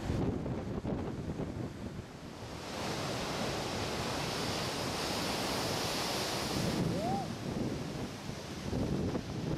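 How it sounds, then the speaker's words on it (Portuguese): Waves surge into a harbor and wash in a steady, rushing roar, with wind buffeting the microphone throughout. "As ondas invadem o porto"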